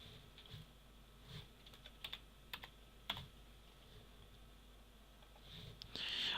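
Keys clatter on a computer keyboard in a quiet room, a short irregular run of close, crisp taps with a few louder strokes, and no voices.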